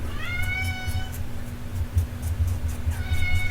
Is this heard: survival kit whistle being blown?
no